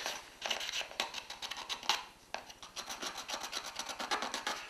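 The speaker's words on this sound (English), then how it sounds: "And then I'll go in with a rasp." A wood rasp shapes and rounds over a curved wooden workpiece, giving a dense run of coarse, rhythmic rasping strokes close up, with brief pauses between bursts and no talking.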